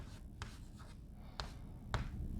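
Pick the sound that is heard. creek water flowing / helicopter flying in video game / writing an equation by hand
writing an equation by hand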